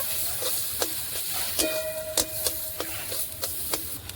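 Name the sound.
sautéing boiled figs, fried fish and potatoes in spice masala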